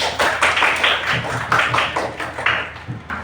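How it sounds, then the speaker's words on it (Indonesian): A group of children in a classroom claps hands in a quick, slightly uneven rhythm, bursts of sharp claps repeating close by for a few seconds. "Tepuk tangan."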